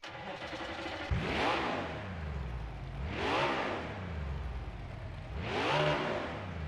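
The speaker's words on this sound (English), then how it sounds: "TNT drivers, start them engines!" NASCAR Heat 5 race cars on the Talladega track roar past in three evenly spaced, rising-and-falling engine sweeps, loud and close, with no talking.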